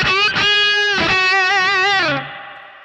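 Overdriven electric guitar played through a Boss Katana Artist MKII amp head, a loud sustained distorted chord with wavering vibrato that rings alone, then cuts off and leaves a brief reverb tail.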